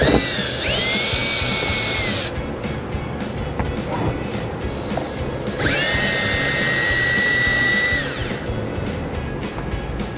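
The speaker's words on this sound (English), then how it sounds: "I'll go ahead and take the bumper fascia screws off as well." Power drill on a 2015 Ford Escape removing bumper fascia screws, two loud whirring bursts of a couple of seconds each, up close, with a steady background rumble between them.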